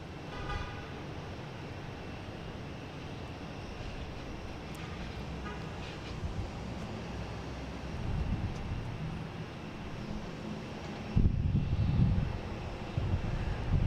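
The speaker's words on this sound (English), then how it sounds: "right now we have a Delta coming in from Dublin" Delta Boeing 767, flight 155 from Dublin, arriving at Boston Logan International Airport: a steady, broad jet rumble that holds throughout and swells louder near the end, with no voices.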